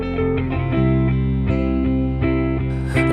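Reversed guitar part processed in Logic during a singer-songwriter production session, with sustained harmonic tones swelling in a steady rhythmic pulse of repeated chords, close and moderately loud throughout, with no talking.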